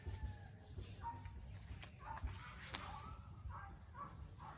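Chickens cluck and call faintly at a distance in short scattered bursts over a steady rumble of outdoor background noise in Cebu.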